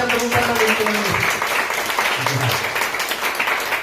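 A church congregation claps together in sustained, dense applause, loud and close, while voices speak over the clapping.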